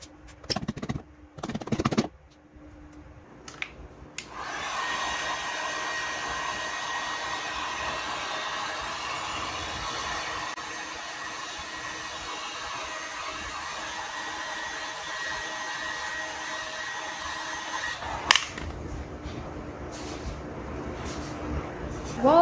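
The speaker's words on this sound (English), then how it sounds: "While I'm here with this heat gun, I have learned a new technique of getting aftermarket seat covers to look just a little bit better." Heat gun blowing on an aftermarket seat cover for a 2007-2013 Toyota Tundra, a steady close airy whir with a faint hum lasting about fourteen seconds, bracketed by handling clatter and brief rustling.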